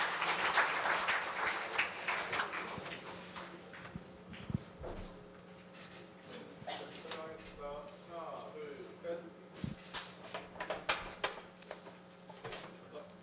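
Applause at a university labor culture award ceremony, strongest at the start and thinning out after a few seconds, followed by scattered clatter, movement noises and a voice talking over a low steady hum.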